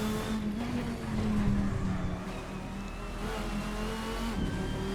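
A 1999 Dodge Viper GTS-R race car in a racing game is driven hard at the Nordschleife, its engine roaring steadily and loud for the whole stretch, with a sustained droning tone and faint tire scrubbing under it.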